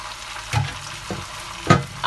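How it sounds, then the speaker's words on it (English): Okra hits a hot pan of saltfish for a Jamaican dish, with a few soft sizzling bursts and stirring scrapes over a quiet frying hiss. "So I'm gonna add my okra now."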